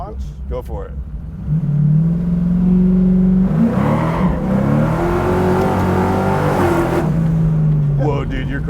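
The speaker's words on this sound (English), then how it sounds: "Do a little launch? Go for it." A Pontiac Trans Am Firebird built as a drag car on big tires launches nearby, its engine rising into a loud, sustained roar with a brief shift-like dip midway before settling.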